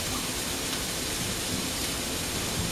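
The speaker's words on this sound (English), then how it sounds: "I can hear the ham sizzling away there." Ham sizzling in a pan for ham and lentil soup, a steady broadband frying hiss that holds evenly throughout with no talk.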